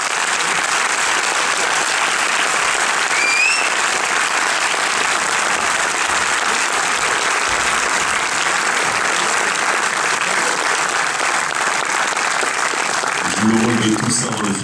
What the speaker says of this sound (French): S'il vous plaît, faites du bruit pour Nelia Arzou.